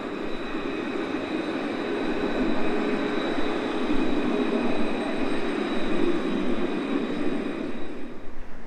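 A tram in Tenerife rumbles past on its rails, a steady, loud rolling drone with a faint metallic whine riding over it, holding for several seconds before easing slightly at the end.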